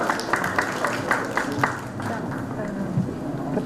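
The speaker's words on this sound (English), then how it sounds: "A round of applause for Ms." Audience applause at a blockchain skill summit in India, a steady patter of clapping from a seated crowd with rhythmic sharper claps standing out, fading slightly toward the end.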